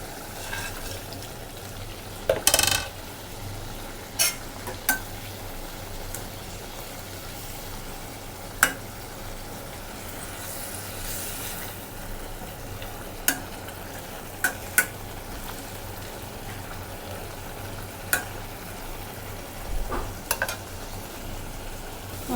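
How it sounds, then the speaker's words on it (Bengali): Fish goes into fried spice masala in a pan, giving a steady low sizzle throughout with scattered sharp spoon taps and scrapes as it is stirred, close and without any talking. "তো মশলাটা কষানো হয়ে গেছে এখন মাছটা দিয়ে দেবো"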